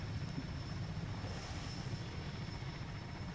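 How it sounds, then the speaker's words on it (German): Steady droning helicopter noise at a skydiving event, a constant engine and rotor hum that stays level throughout, fairly faint and without speech. "Helikopter."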